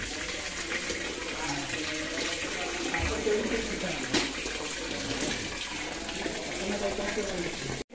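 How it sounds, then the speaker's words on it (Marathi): Rice is washed in water while a vegetarian feast is prepared at Shri Gambhireshwar temple in Kumbhavade, Rajapur. Steady, loud splashing and running water fills the whole stretch, with voices faintly mixed in. "बघा आता धुवून घेणार तांदूळ"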